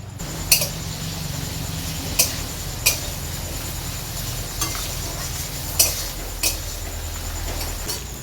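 Potatoes sautéed with spices and a pinch of asafoetida in a pan, a spatula giving sharp, scattered taps and scrapes every second or so over a low, steady cooking hiss.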